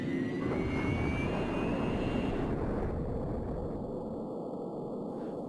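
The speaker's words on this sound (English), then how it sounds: "Ready to fly, engine startup." Jet engine startup in the Falcon flight sim game, an F-16 spooling up with a steady rushing roar and a whine that climbs in pitch and then fades, growing smoother as it settles.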